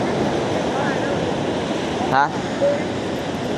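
Strong waves of water at Baler, Aurora, a loud continuous rushing surf with wind buffeting the microphone and a brief voice.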